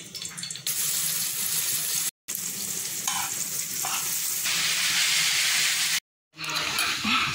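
Tomato, onion and egg sauce fries in a pan with a loud, steady sizzle and crackle that runs nearly throughout, briefly cutting out twice, with stirring scrapes mixed in.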